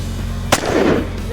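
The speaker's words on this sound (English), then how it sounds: "Good shot there." A single sharp shotgun blast fires at a clay target, loud and close, set against steady outdoor background noise and a faint voice afterward.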